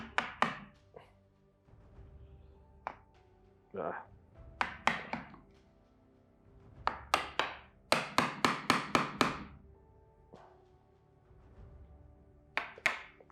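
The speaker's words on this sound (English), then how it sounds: "I can use another chisel to make room" A chisel struck repeatedly to open up space in wood during a demonstration, sharp close knocks in irregular clusters and quick runs of taps, with a voice talking in between.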